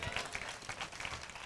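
A church congregation claps during a sermon, a faint, uneven patter of hands heard from a distance, with scattered crowd noise under it.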